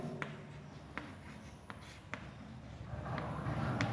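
Pen or marker writing out an equation during a Class 11 maths lesson, a steady close scratching with several sharp taps, continuing alone without speech.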